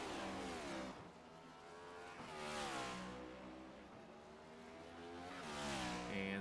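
Race cars run nose to tail through a chicane on the Charlotte Roval in a stock car racing simulator, engines rising and falling in pitch as they pass one after another, loud and close, with no talking.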